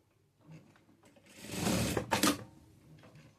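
A sewing machine stitches a frock-style nighty in a short mechanical burst that swells and runs for about a second, with quiet handling sounds before and after and no talking.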